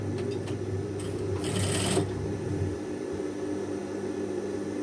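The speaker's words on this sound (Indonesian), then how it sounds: "Lalu kita jahit juga, jahit tindas di bagian" A sewing machine topstitches along the edge of a men's shirt cuff, a steady, close mechanical whir that runs without pause.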